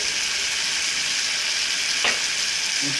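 Tamarind water hits a hot pan for dhal and sizzles in a steady, loud, hissing wash that barely changes, with one brief sharper splash partway through.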